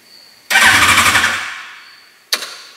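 An engine in a sleeper car project cranks and catches with a loud burst of rhythmic pulsing, fades over about a second, then a second brief rev-like blip follows near the end; no talking.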